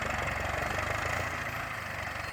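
An MTZ-920 tractor engine runs steadily during barley sowing with a seed drill, a close, even diesel chug with a rapid regular pulse and no voices over it.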